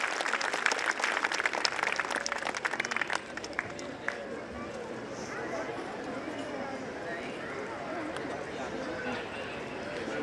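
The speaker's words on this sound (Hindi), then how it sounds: "Audience, give a huge round of applause." Audience applause at a school annual function: a burst of quick clapping for about three seconds, which then thins into a faint, low crowd murmur in a large space.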